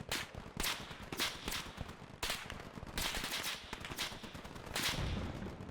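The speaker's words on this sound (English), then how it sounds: "Oh, hear all those bullet cracks." Rapid machine-gun bursts and sharp bullet cracks from heavy Dushka-type guns and half-tracks in a Gates of Hell battle with modded gun sounds, dense overlapping volleys firing continuously and loudly.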